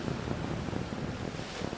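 Sea breeze blowing over open ocean during a Volvo Ocean Race sailing leg start off Cape Town: a brief, steady hiss of wind and wash, faint and continuous, with no voices.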